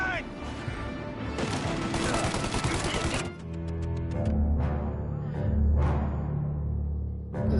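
A shootout in the video game Mafia Definitive Edition: a dense, rapid barrage of gunshots for about three seconds, then sparser, echoing shots over lingering tonal game sounds.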